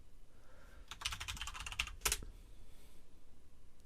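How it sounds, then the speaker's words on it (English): Password being typed on a computer keyboard, a quick burst of close soft key clicks followed by a sharper tap, faint and alone against quiet room noise. "I just need to type the password in properly."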